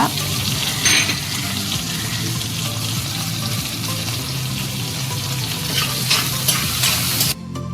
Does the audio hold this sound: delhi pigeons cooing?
no